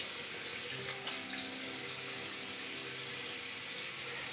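Tap water runs steadily from a bathroom faucet into a sink while a face is rinsed after shaving with an adjustable slant razor, a constant close hiss with no talk.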